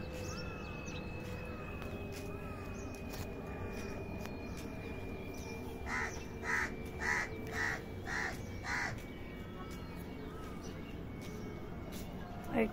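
Several short crow caws in quick succession from a morning garden, moderately near, standing out over steady outdoor background hum and a faint droning tone.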